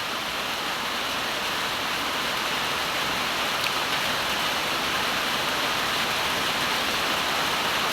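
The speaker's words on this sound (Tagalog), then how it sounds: "Ulan na naman." Rain falls steadily as an afternoon shower, a dense, even hiss that stays constant throughout without any voices.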